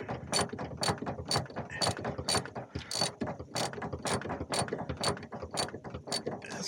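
A ratchet wrench clicks rapidly and steadily while snugging bolts on a remounted hydraulic motor of an RV Lippert Level Up leveling system, close and continuous with no talking.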